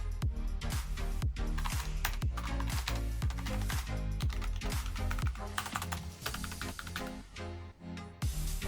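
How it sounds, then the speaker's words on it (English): Rapid typing on a full-size mechanical gaming keyboard with tactile switches, dense crisp clicky keystrokes in a fast continuous stream, close to the microphone, with no talking. "You get a nice clicky sound with good response times for gaming."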